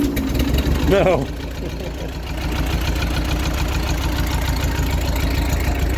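A 1952 Ford 8N tractor engine idles steadily, a low, even chugging close by; someone speaks a word over it near the start.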